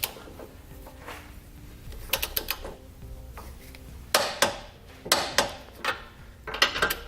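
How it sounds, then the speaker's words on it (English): A torque wrench with an 11/16 socket tightening trailer hitch hardware on a 2018 Ford Escape: a series of crisp metallic clicks and ratcheting snaps in short clusters, close and fairly loud, with no talk. "I'm going to come back with a torque wrench and that 11/16 socket and torque all my hitch hardware down to the specified amount"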